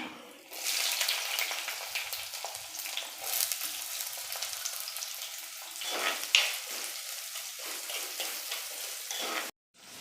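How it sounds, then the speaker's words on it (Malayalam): Onions sizzle and crackle steadily in hot oil in a clay pot, with occasional stirring scrapes, close and continuous before a brief sudden cutoff near the end. "ഇനി നമുക്ക് സവാള ഇട്ട് കൊടുക്കാം"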